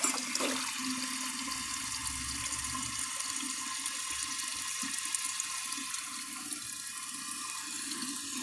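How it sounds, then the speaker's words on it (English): A 1981 Briggs Conserver toilet flushes with a close, steady rush of water and gurgling refill that keeps going for several seconds. "I'm going to give it another flush."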